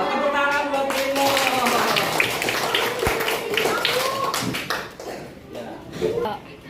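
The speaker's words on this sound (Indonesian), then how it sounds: "Tepuk tangan buat Primo." Classroom applause for a student during an Islamic religious lesson, a dense run of many hands clapping over several seconds, with children's voices mixed in and tapering toward the end.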